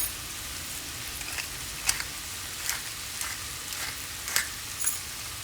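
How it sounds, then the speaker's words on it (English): Onion and garlic frying in a pan give a soft, steady sizzle, with a few brighter crackles and pops standing out over the low hiss. "After the onion and the garlic goes in the pan"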